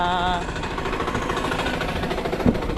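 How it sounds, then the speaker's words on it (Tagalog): A loud machine runs at a construction site during concrete plastering work, a steady droning engine rumble with a rhythmic vibrating rattle that continues throughout, with no speech over it. "maingay yung ano maingay itong makina"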